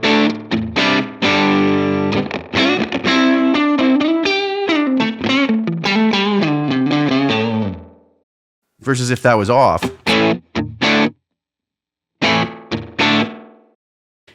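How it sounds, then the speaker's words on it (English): An electric guitar plays through a Line 6 Helix reverb effect, ringing out loud distorted chords and notes that wash into a long tail. Someone speaks briefly between the phrases. "See how it sort of takes on this reverb life of its own, right?"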